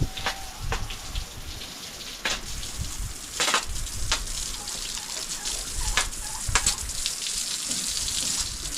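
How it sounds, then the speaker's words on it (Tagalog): Strong running water pours while a horse is bathed and shampooed. A continuous loud hiss of spraying water carries scattered splashes and patters, with no talking. "Buti ngayon malakas yung tubig natin mga kapibinsa"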